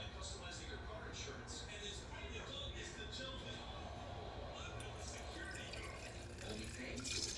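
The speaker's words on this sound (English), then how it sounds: "So I have a bowl, cheesecloth, and we're going to pour this right in." Propolis tincture poured from a container through cheesecloth into a bowl while making a peppermint mouthwash, a faint trickle and drip of liquid heard softly beneath a person talking.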